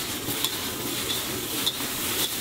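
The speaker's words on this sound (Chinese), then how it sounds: "大火快速翻炒" Singapore-style rice noodles tossed over high heat in a wok, a continuous close sizzle with light scraping strokes of the spatula recurring every half second or so.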